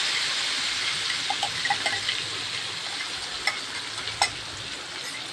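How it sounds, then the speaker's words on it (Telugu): Ground masala paste for an egg gravy curry fries in oil in a kadai, giving a steady, close, bright sizzle broken by occasional sharp clinks of stirring, with no talk. "అదే కళాయిలో మనం మిక్సీ పట్టుకున్న పేస్ట్ కూడా వేసేసుకోవాలి."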